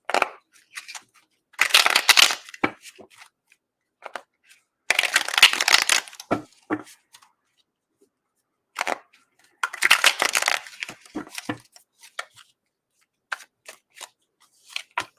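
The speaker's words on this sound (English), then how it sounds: "I'm gonna shuffle." Tarot cards are shuffled by hand in bursts, crisp riffling and papery slaps at close range, separated by quiet gaps and scattered taps and shuffles, with no talking.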